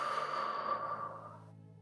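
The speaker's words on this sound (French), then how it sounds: "inspire profondément pour te dynamiser et souffle fort par la bouche" A long, forceful breath is blown out through the mouth during a relaxation breathing exercise, strong at first and then gradually trailing off over a faint, steady soft tone.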